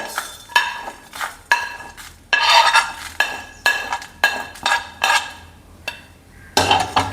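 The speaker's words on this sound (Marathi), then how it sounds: "हे जे थोडे थोडे खडे मसाले जिरं धनं आणि लाल मिरची आहे ती आता मी थोडे भाजून घेते" Whole cumin, coriander seeds and dried red chilies dry-roasting in a pan: repeated sharp metallic scrapes and clinks of a spoon against the pan at a steady rhythm, loud and close, without talk.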